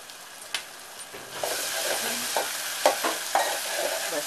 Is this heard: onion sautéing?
yes